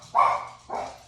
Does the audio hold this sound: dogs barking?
yes